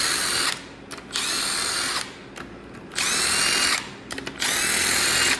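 A cordless drill whirs loudly in four long bursts removing bolts from a Honda S2000 F20C engine, with short pauses and a few brief trigger blips between runs.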